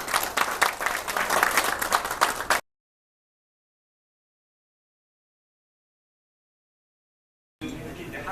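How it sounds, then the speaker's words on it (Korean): Applause from a forum audience honoring a chairman at a Korean-American business friendship event, a dense steady patter for a couple of seconds before cutting to silence, then briefly resuming. "다시 한번 이 회장님께 뜨거운 박수를 보내주시기 바랍니다"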